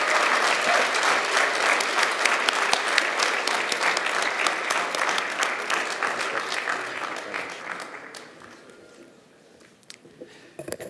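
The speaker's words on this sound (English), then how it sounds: "Let's give a warm round of applause to Mr." A large audience at a Toronto college convocation ceremony in a hall gives sustained applause, many hands clapping steadily, then thinning and fading out toward the end with a few scattered claps.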